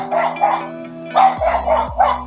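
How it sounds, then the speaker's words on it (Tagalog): A dog barks repeatedly nearby, several sharp woofs in quick bursts, over a steady background hum. "Ah, dyan, may aso."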